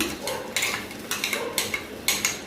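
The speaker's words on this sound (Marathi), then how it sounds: "दालिया टाकल्यानंतर शेंगदाणे टाकते" Dry roasted gram and fried peanuts tumble into a pan for a raw chivda snack, a close series of light rattling clinks and taps.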